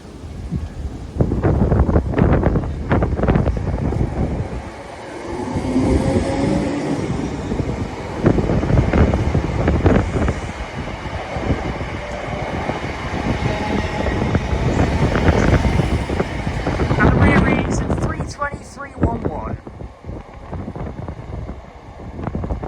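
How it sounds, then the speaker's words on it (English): A Scotrail class 320 electric train pulls out of Blantyre station, a long rumbling departure with rhythmic clatter of wheels over rail joints, buffeted by heavy wind on the microphone, nearby and loud throughout. "Departing out now is a 1040 Scotrail service from Dalmuir to Larkhall."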